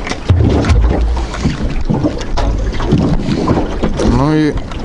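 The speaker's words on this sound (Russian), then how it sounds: "Ну и мотор уже обкатался, идет получше." A boat's outboard motor runs on a bay during autumn fishing, with a steady motor drone mixed with wind buffeting the microphone and water noise, and someone talking over it.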